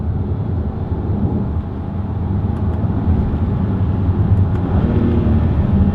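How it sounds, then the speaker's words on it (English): Steady, loud engine and road drone from inside a 2018 Volkswagen Passat GT accelerating in manual shift mode, a continuous broadband rumble without clear pauses or voices. "I love this motor."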